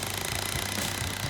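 A cordless impact drill drives a leg into the floor during a manufactured-home renovation, a continuous loud rapid hammering rattle close by, with no talk.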